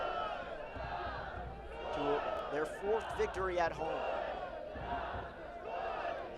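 Soccer supporters cheer One Knoxville SC in a stadium against Union Omaha: a moderately distant crowd with rising shouts and rhythmic chant bursts in the middle, while a commentator speaks over it.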